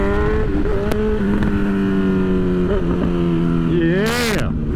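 Kawasaki ZX-10 sport motorcycle engine hums steadily while riding in first or second gear through narrow city streets, a loud continuous drone with wind noise, with talking over it and a brief rising rev near the end.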